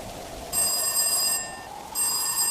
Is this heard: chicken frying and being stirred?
no